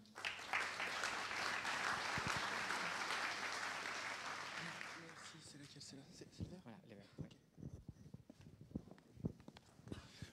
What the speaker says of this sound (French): Un grand applaudissement, s'il vous plaît.